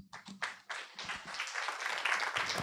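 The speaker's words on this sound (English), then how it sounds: "A round of applause, ladies and gentlemen." An audience at a business event breaks into applause after a presentation, starting with a few scattered claps and quickly swelling into steady, dense clapping.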